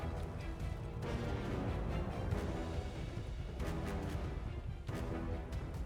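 Gunfire in the video game Atomfall, faint and distant: a few muffled shots spaced about a second or more apart over a steady, noisy rumble, with no talk.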